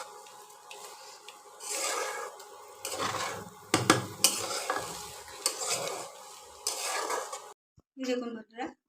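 White rice stir-fried in a pan with a little garam masala: a steady sizzle with scraping and metallic clinks of a spatula against the pan, then a short pause before a voice briefly speaks.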